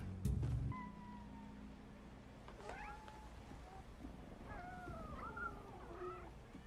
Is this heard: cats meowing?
yes